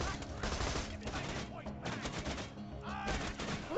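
Rapid bursts of video game gunfire, loud and close, in dense fusillades separated by short gaps over about four seconds.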